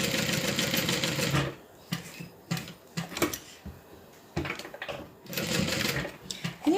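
Sewing machine stitching fabric in short bursts, a fast whirring chatter close by that stops and restarts, with handling clatter and small clicks in the pauses.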